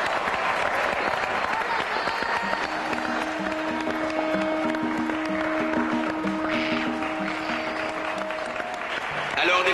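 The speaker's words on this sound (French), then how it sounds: "sous vos applaudissements chaleureux" Warm applause from a fashion show audience greets a model, steady crowd clapping filling the whole stretch, with music tones and voices mixed underneath.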